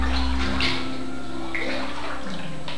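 Water runs steadily inside a room, a continuous splashing rush with a low hum beneath it and no break.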